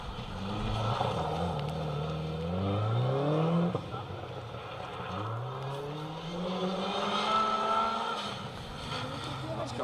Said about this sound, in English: Down the hillside, the first of the Subarus.